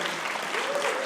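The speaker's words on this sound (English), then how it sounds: "let's have a big round of applause for Tanya." Wedding guests at Borthwick Castle in Edinburgh, Scotland break into a brief burst of dense, steady applause, filling the room with crowd clapping.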